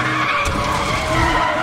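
A car skidding in the Need for Speed The Run racing game: a loud, steady tire squeal with engine roar over almost two seconds, close and continuous, with no talk.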